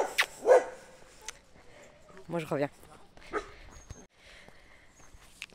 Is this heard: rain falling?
no